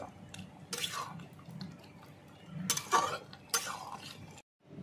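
Ghee being stirred into a jackfruit and prawn curry: a spoon clinks and taps against the pot in irregular bursts, with soft wet stirring between, fairly close, then a sudden cut to silence at the end.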